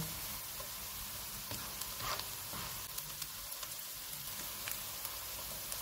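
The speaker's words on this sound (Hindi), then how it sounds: "1 टीस्पून ज़ीरा डालेंगे। इसको 1 मिनट तक भूनेंगे।" Cumin seeds fry in a pan over medium-low heat for a chicken tikka dum pulao, giving a steady, dense sizzle with faint crackles and pops throughout, no talk.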